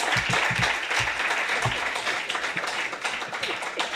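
An audience at a conference on security and investment in Ibero-America gives a steady burst of hand clapping, dense and close, that fills the whole stretch without talk.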